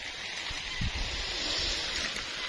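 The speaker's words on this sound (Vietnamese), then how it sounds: "Mưa tầm tã luôn." Heavy pouring rain hisses in a steady, dense wash during a storm in a garden at night, continuous and fairly loud with no voices, a few low thumps showing briefly beneath it.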